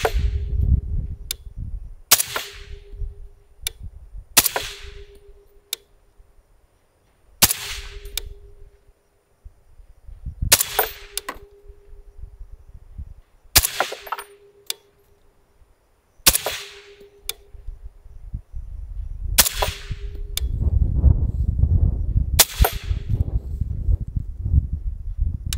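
Rifle shots at an outdoor shooting range, about ten loud sharp cracks spaced a couple of seconds apart, each followed by a brief ringing echo, with wind and handling noise between them.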